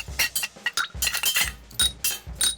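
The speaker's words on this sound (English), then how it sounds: "Now let's add ice." Ice cubes clink and rattle into a glass for a lavender old-fashioned cocktail, a close series of sharp, bright knocks in quick irregular bursts, with no talk.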